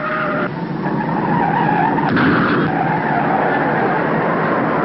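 A 1955 race car at the United States Grand Prix skids loudly at close range, with a sustained screech of tires over the roar of engines and a sharp impact-like burst partway through.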